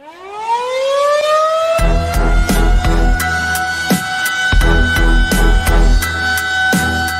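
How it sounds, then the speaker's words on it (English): An air raid siren winds up and wails steadily, soon joined by loud pounding drums and music underneath. "hit the air raid sirens"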